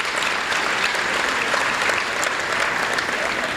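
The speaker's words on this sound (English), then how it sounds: "Big round of applause for our governors." Audience at a business excellence awards gala applauds continuously, a broad, steady wash of clapping from a large room that neither builds nor fades across the few seconds.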